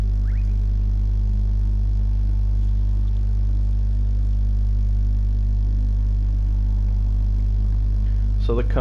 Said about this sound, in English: the cars going double file now, making their way up through the bus stop chicane